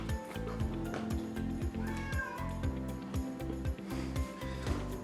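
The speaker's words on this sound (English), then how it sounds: "Apparently the cat wants outside." Cat meowing to be let outside, repeated drawn-out meows under a busy kitchen soundscape of rhythmic thumping and clatter while pizza is being made.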